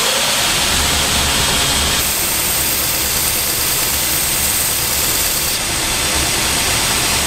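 A belt grinder running 120 grit sands a knife handle with a constant, loud, hissing roar that holds steady throughout, shifting slightly in tone as the workpiece presses against the belt.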